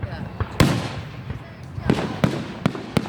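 Expensive fireworks at a Canada Day beach show boom several times, with sharp bursts spaced irregularly and crackling tails. People chat underneath the blasts.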